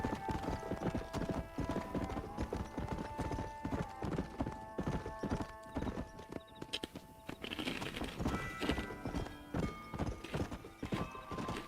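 Horse hooves clip-clop steadily through the Red Dead Redemption video game world with a whinnying neigh among them. Layered game ambience and music stay loud and continuous throughout, with a brief dip in the middle.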